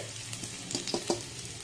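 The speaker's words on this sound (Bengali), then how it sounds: "এবার তার মধ্যে আমি দিয়ে দিচ্ছি আদা কুচি, 1/2 চামচ আদা কুচি, 1/2 চামচ রসুন কুচি।" Chopped ginger and garlic frying in hot oil over a high flame, a low steady sizzle broken by a few quick stirring scrapes near the middle, heard close and alone.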